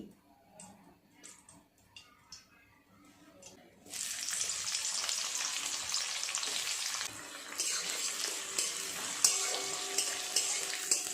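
Onions hit hot oil and ghee in a pan for biryani and break into a steady, close, bright sizzle after a few seconds of quiet clinks and handling, the frying hiss continuing with small pops.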